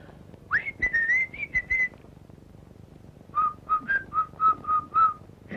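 Several people whistling in turn: a first rising, warbling phrase, a pause, then a second series of about seven short, evenly spaced chirped notes, clear and unaccompanied by talk.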